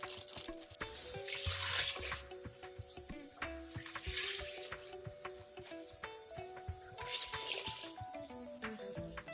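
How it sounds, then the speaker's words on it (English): Hot water pours into a crock-pot holding black beans for chili, giving soft splashing and trickling bursts that come and go. "Add 6 to 7 cups of hot water."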